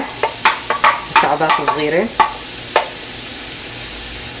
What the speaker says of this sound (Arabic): رح أضيف البصلة المقطعة